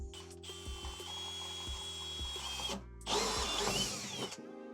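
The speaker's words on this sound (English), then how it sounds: "take your 1-inch hole saw and you're gonna drill out in the tank right here" A 1-inch hole saw on a power drill cuts into a toilet tank. The motor whines steadily with a few brief pauses, then switches to a harsher, louder grinding bite near the end. No voices.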